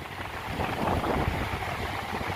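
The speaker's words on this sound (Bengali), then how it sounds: "যে ট্রলার সব মাছের ট্রলার" A dull, continuous rumble of fishing trawlers on the water at the Digha river mouth, heavily buffeted by wind noise against the microphone.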